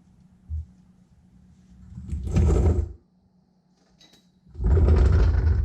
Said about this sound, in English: So now I'm gonna release the jack